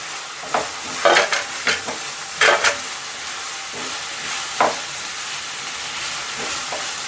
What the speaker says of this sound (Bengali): চলো ঢাকাটা একটু খুঁড়ে নেড়ে নিই